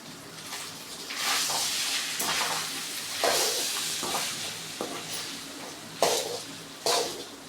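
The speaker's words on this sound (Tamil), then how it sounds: "அந்த சாப்பாடு அப்படியே கடாயில் போட்டுக்கலாம். ஓகே, இப்போ நல்லா கிளறிக்கோங்க." A utensil stirs and scrapes tamarind rice around a kadai, making repeated close, gritty scraping strokes with a few sharper clinks of metal against the pan, and no voices.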